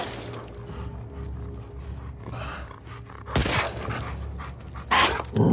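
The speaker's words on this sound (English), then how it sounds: "Oh, they're dogs." Dogs pant and bark during a tense encounter in the video game The Last of Us Part II, with ragged breathing and sharp louder bursts near the end over a low game soundscape.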